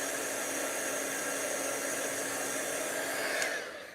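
A heat tool blows hot air over silver embossing powder on stamped leaves, a steady loud whooshing drone that winds down near the end, with no voices.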